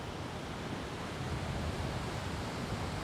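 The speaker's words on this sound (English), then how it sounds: "Waves so big that even the fishermen pull their boats further up the beach." Big ocean waves surf onto a beach during a huge swell, a steady broad roar of breaking water and wash filling the whole stretch with no voices.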